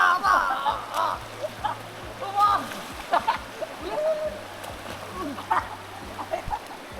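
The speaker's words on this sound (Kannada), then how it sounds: "ನೀರು ನೋಡಿದ್ರೆ ಆ್ಯಕ್ಚುಲಿ ಹರಿತಾ ಇದೆ" Stream water runs and splashes as boys bathe, with scattered splashes and bursts of voices over the flow, plus a low hum underneath.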